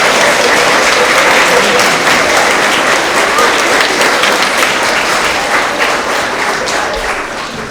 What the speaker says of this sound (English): If we can give them a big round of applause as well.